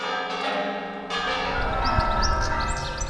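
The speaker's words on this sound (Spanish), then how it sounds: "También en Salamanca se han escuchado las campanas a las 12 en punto en una ciudad fantasma." Church bells peal at noon on Easter Sunday in Salamanca, a dense, ringing wash of overlapping tolls that sounds steady and fairly close, with no voices over it.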